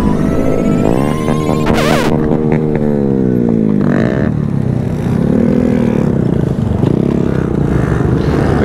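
Big sport bike revving its throttle hard outdoors on a beautiful day, close and loud, with rising and falling engine sweeps and repeated revs over steady traffic noise.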